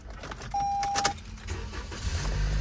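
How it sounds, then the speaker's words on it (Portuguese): A car in the USA: a short electronic chime sounds, then the engine cranks and catches, settling into a low, quiet idle rumble. "Motorzinho filezinho, ligou na hora"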